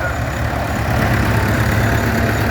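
A rare vintage tractor engine runs at a steam rally, a steady low idling rumble with a dense, even throb heard close and alone.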